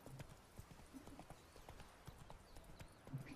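In The Witcher 3 video game, the horse Roach gallops along a road. The hoofbeats make a quiet, rhythmic clip-clop that runs steadily throughout, with a faint whinny-like sound near the start.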